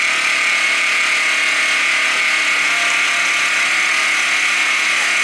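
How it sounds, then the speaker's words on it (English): An angle grinder runs steadily on power from a DIY 35Ah, 3000W battery inverter set to eco mode, giving a loud, continuous high-pitched whine that holds constant and stands alone without any talk. "here's the angle grinder."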